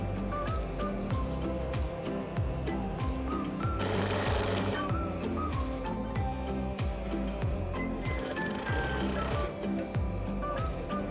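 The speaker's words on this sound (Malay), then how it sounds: "So jahitkan sampai atas, matikan jahitan." Sewing machine stitching a tiered robe, its motor whirring in a steady, continuous run with rhythmic needle chatter and two brief louder bursts of faster stitching, close and without any talk.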